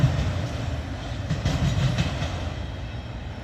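A freight train rolls steadily past a depot in Abbeville, its cars rumbling and clacking continuously at close range with no voices.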